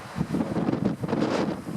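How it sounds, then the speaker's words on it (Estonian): Strong wind of about 22 m/s roars across a cold seashore at Meremõisa, buffeting the microphone with a loud continuous rumble and gusty surges, with no voices. "Päris hea tuul praegu."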